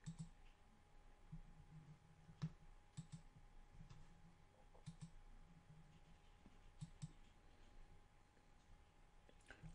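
Quiet, scattered computer mouse clicks while working in FlexiBake bakery software, a handful of sharp isolated taps spread across the stretch over a low, steady background hum.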